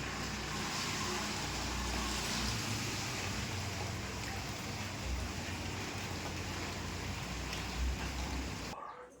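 Continuous broadband hiss of heavy night rain in Goa, mixed with a low rumble of passing traffic, steady throughout before cutting off at the end.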